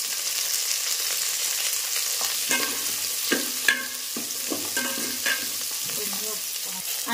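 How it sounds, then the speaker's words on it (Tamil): Curry leaves, garlic and slit green chillies sizzle steadily in hot oil for a fish curry, with scraping stirs and a few sharp crackles close by. "கருவேப்பிலை, வெள்ளைப்பூண்டு, ரெண்டு பச்சை மிளகாய் இது கீறி போட்டுக்கலாம்."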